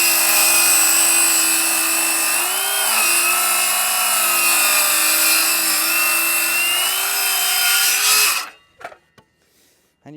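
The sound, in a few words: saw cutting oak framing timber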